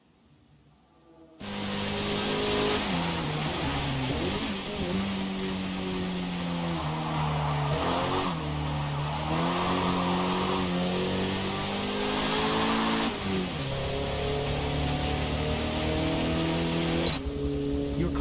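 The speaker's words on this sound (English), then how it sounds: "Your car drives up the wet pit lane." Race car in Forza Motorsport rolling up a wet pit lane, a steady mid-pitched engine drone with rising and falling revs, loud and continuous after a brief quiet start.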